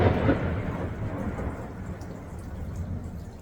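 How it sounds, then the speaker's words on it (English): Light rain after a passing storm, a steady soft wash of drops falling outdoors, close and even throughout. "it's still raining. But it's not raining really hard"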